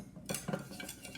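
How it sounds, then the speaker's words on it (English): Chopsticks stir a Szechuan-style pickling mixture made without vinegar, giving faint, close clinks and soft swishes against the container in quick, uneven succession. "you want to stir it with the chopsticks again"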